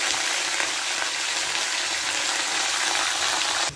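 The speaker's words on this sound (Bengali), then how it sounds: "চিনে বাদাম দিয়ে দেবো, দিয়ে ভেজে নেব।" Peanuts and curry leaves fry in hot oil with a loud, dense, continuous sizzle that stays even throughout, then cuts off abruptly at the end.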